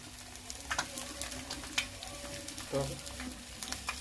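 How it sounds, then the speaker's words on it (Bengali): An egg poaching in a pan gives a quiet, steady sizzle with occasional soft scrapes and clinks, heard close but low in level. "ছেড়ে দিয়ে একটু ওয়েট করতে হবে যেন ডিমটি হালকা একটু সিদ্ধ হয়।"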